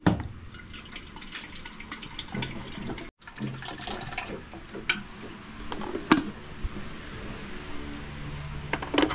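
Water pours and splashes close by in a steady trickling stream broken by drips and small splashes, with one brief pause midway, quiet and with no talk.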